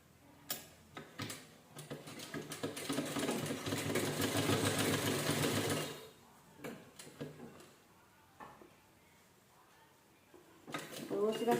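A sewing machine stitches an old towel into a kitchen hand towel, whirring steadily for several seconds before stopping, followed by scattered handling clicks and a faint voice.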